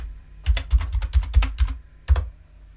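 Keys on a computer keyboard are tapped in a quick, uneven burst of about eight close, soft clicks, then one or two final strokes after a short pause.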